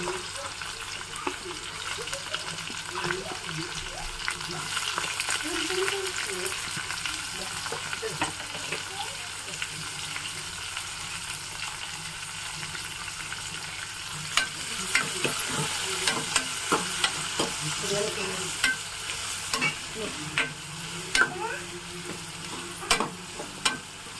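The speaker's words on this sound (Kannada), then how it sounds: "ಜೀರಿಗೆ ಸಾಸಿವೆ ಹಾಕ್ಕೊಂಡು ಕರ್ಬೇವು ಸೊಪ್ಪು ಹಾಕ್ಕೊಂಡು ಇವಾಗ ಈರುಳ್ಳಿ ಹಾಕ್ಕೊತಾ ಇದ್ದೀನಿ" Onion sizzles steadily in hot oil with cumin, mustard seeds and curry leaves, with a continuous close crackle and occasional clinks and scrapes of stirring throughout.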